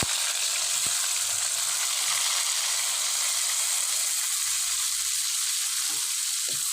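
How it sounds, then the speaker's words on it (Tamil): Garlic cloves and onion frying in hot oil with fenugreek seeds for a Tamil fish curry, a steady broadband sizzle with a few faint stirring knocks, continuous and close. "நல்லா பொன்னிறமாக வறுத்துக்கலாம்"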